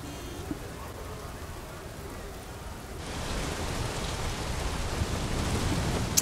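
Steady rain hisses over the track in the F1 2015 racing game at a stormy Singapore circuit, a dense continuous wash that grows louder partway through, with no talk over it.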